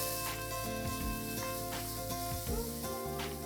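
Misal masala stirred in a hot pan, a steady sizzle with a loud fried hiss and scraping strokes that keep on over a constant kitchen hum.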